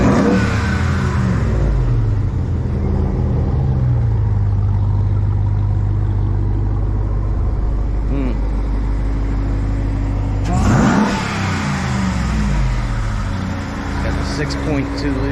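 A supercharged 6.2 liter engine revs and holds at a loud, steady drone for a long stretch, then blips sharply again near the end; the supercharger whine rides on top, with speech over it.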